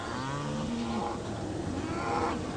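Dairy cows low nearby, a drawn-out moo sliding downward followed by fainter bellowing calls over a steady farm background.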